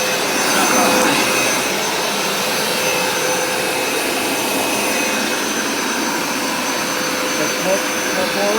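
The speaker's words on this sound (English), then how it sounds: "it stops spraying, and it vacuums it up" Hoover SmartWash carpet cleaner vacuuming a carpet, a steady loud whirring motor drone that holds constant throughout with no breaks.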